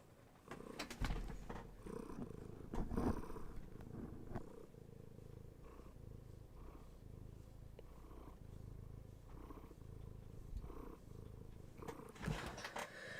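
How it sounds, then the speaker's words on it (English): A cat purrs loudly and close up in a steady rumbling rhythm of breaths, with a few faint background noises and no speech. "Purring so loudly."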